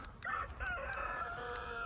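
A rooster crows once, a drawn-out cock-a-doodle-doo heard at moderate distance and fairly quiet, with faint clucking around it.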